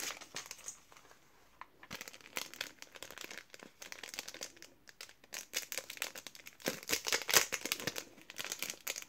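Small plastic sachet of tiny paper die cuts crinkled by hand, close and quiet, irregular rustling bursts that grow busier toward the end, no talking.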